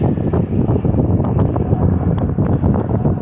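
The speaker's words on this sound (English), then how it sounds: "It's a little windy out here." Wind buffets the microphone with a steady, loud rumbling roar, gusting throughout the few seconds without other clear sounds.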